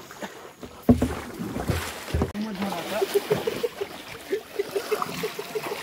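Water sloshes and ripples around a small rowboat moving along, with a thump near the start, steady lapping, and voices talking nearby.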